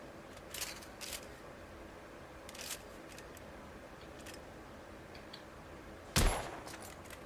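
Gunfire in The Order: 1886 comes as a few faint, sharp cracks spaced seconds apart against a quiet background, then one louder, abrupt shot near the end.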